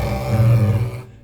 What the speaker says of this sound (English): You can have a scrape that starts by the bridge and moves up towards your body.